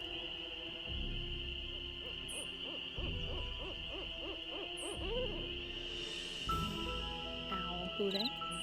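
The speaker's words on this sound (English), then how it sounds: "Owl hooting." Owls hoot repeatedly in the forest of the video game Nancy Drew: Ghost Dogs of Moon Lake, a series of clear calls over a steady ambient hum, with chirping night sounds in the background.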